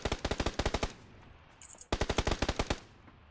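Automatic gunfire in the PC video game PUBG: two rapid bursts of evenly spaced shots, each about a second long, separated by a short pause, loud and close.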